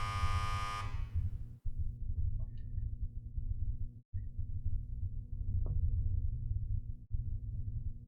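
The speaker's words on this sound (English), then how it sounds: "Cold sweat slides down my forehead and back as the buzzer signaling the start of the play sounds." A game buzzer in Flowers: Le Volume sur Hiver signals the start of play, a loud tonal blare lasting under a second that cuts off into a low, steady hum.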